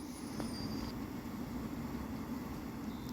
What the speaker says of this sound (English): And train sounds that go wee wee wee.